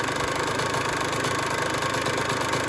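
A two-stroke engine idles steadily while its idle screw is being adjusted, giving a continuous, even mid-pitched drone at close range with no pauses across the whole stretch.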